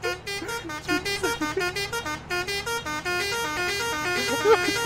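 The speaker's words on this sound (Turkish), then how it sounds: "Ver bakayım kornayı." Tractor horn honking repeatedly in Farming Simulator, a rhythmic string of short toots over steady engine rumble with a voice talking underneath.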